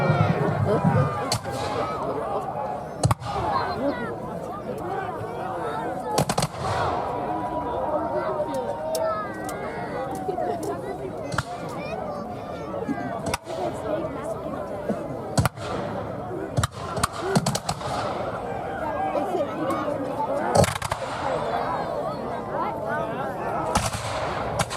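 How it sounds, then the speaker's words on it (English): Lines of muskets fire volleys at a night battle reenactment, staggered sharp cracks and booms spread out rather than fired at once, sounding over distant crowd noise while someone narrates. "as the lines are firing, they're not firing the entire line at once"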